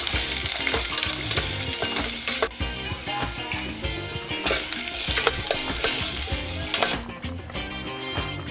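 Khichuri with ghee is stirred and fried in a pot for dinner on a winter road trip toward Shimla. It gives a continuous close sizzle with repeated scraping strokes of a spoon against the pan, with no talking.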